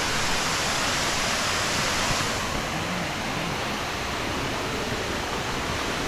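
Steady, loud roar of a waterfall pouring down, close by and continuous, with no voices over the broadband rush of falling water.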